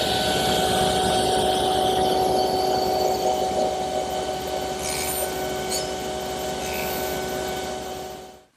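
Table saw cutting a piece of wooden trim at a 45-degree miter in a woodworking shop: a loud, steady motor hum with a tonal whine and rough cutting noise, trailing off as the blade winds down at the end.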